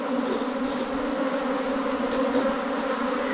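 Honeybees crowd a hive entrance gate, giving a dense, continuous buzzing drone that is loud and close throughout, with no talking.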